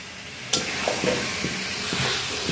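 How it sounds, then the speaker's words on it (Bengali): Chicken pieces sauté with spices in a hot pan, giving a steady sizzling hiss with occasional stirring scrapes and soft knocks of a spoon, heard up close without talk. "দেখো মাংস কষাচ্ছি"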